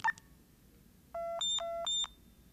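Four electronic beeps from a talking banknote identifier in a high-low alternating pattern, clean tones of steady pitch after a short click, fairly quiet.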